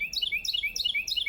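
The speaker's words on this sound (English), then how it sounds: "That bird chirping." A bird chirps in four quick, bright descending phrases evenly spaced over a second and a half, clear and close against a quiet background.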